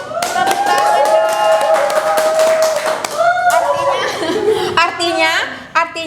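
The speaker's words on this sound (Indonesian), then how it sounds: "Tepuk tangan dong." At a school awards event, an audience claps in scattered rhythmic bursts, close and fairly loud. Chuckles and lively voices mix in throughout.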